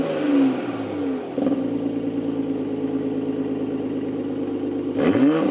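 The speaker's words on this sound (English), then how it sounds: "So in comfort mode, the exhaust sounds nice but tame, so take a listen to that." A 2020 Toyota Supra exhaust in comfort mode, revved from idle: a smooth, fairly tame engine note that rises and holds, with blips near the start and end, close and alone without talk.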